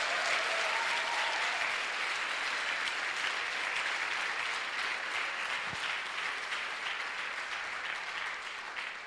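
Church congregation applauding during a worship sermon: sustained broad clapping from many hands, fairly distant and even, fading slightly at the end.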